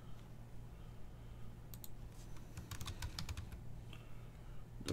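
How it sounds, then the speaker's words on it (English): Quick clicking keystrokes on a computer keyboard, irregular bursts of taps that grow busier midway, close by over a steady low hum, with no talking. "Where am I typing this?"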